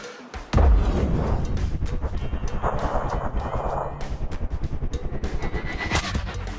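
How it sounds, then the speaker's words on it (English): A sniper rifle in Sniper: Ghost Warrior Contracts fires in a sudden loud crack, followed by a long rumbling echo with rapid pulsing texture that stays loud to the end. "took them out with one well-placed shot"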